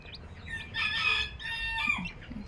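A bantam hen with chicks makes short clucking and chirping calls close by, a few bursts over low background noise.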